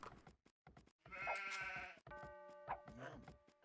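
Sheep in the Age of Empires video game bleat repeatedly in clear, wavering cries, with short game clicks and effects between them and no talk.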